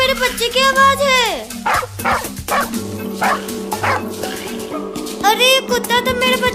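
A dog barks and yips repeatedly while chasing a kitten, its sharp barks alternating with whining over music and animated voices talking throughout.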